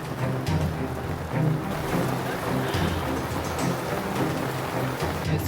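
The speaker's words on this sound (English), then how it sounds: "It's raining on top of me." Steady rain pattering on a camping shelter close overhead, a continuous dense patter with low rumbling underneath.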